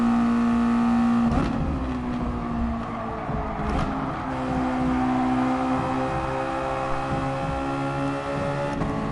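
Race car engine in Gran Turismo Sport held high in the revs near the limiter, a loud steady drone with a brief pitch dip around a shift and tire noise underneath, no voices.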